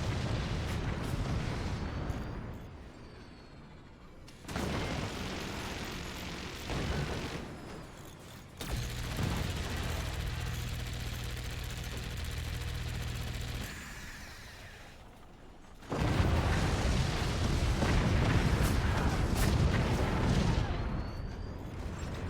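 Heavy booming cannon blasts and rumbling explosions in a video game, in bursts with brief quieter gaps, then a loud sustained barrage of impacts toward the end.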